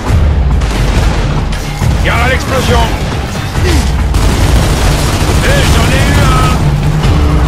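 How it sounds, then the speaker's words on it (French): Booming explosions and crashing impacts in the video game Gears of War Judgment, loud repeated blasts over about seven seconds, with voices talking over the game sounds. "Explosion."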